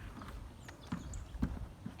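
Quiet hoof clops from a horse walking nearby, a few uneven steps over a soft background.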